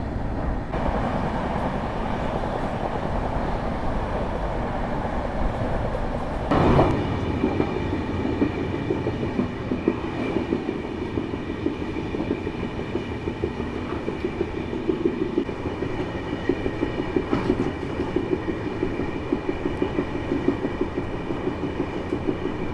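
The Kerala Sampark Kranti Express runs along the track, heard from inside the train as a steady rumble with rhythmic wheel clatter and one brief louder bang, and no voices.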